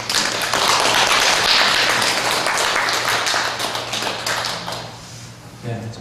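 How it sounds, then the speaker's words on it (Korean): Church congregation applauds after a tearful testimony, a dense steady patter of many hands fading toward the end, with a low hum running beneath. "박수 한번 칠까요?"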